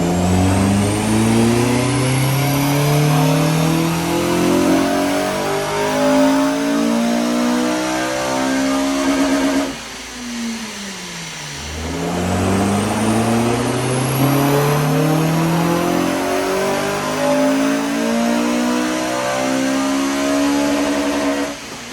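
A Honda Civic Type R FN2 with a Skunk2 inlet and Tegiwa 70mm exhaust revs on a dyno, sweeping loudly upward through the range, dropping away, then sweeping up again, close and alone.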